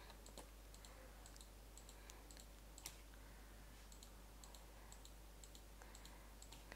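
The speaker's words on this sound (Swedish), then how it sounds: "Så förlåt om ni hör lite musklicka ljud" A computer mouse clicks faintly and sparsely during a Minecraft Hunger Games session, over a low steady hum.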